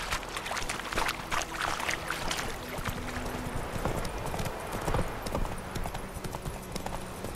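Roach, a horse in The Witcher 3 video game, gallops with loud, rapid clip-clopping hooves in a steady driving rhythm close by, over a bed of ambient game noise.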